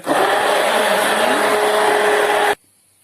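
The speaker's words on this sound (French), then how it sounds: "au mixeur plongeant. Et on va obtenir une texture beaucoup plus lisse." An immersion blender whirs loudly and continuously for about two and a half seconds, then cuts off abruptly, while blending homemade hand soap gel into a smooth texture.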